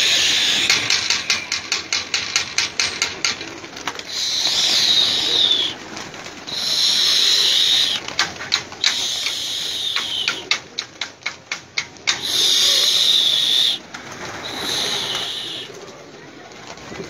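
Captured pigeons coo and flutter nearby in repeated bursts, with sharp rapid wing claps and tapping between the calls, loud and close without any talk.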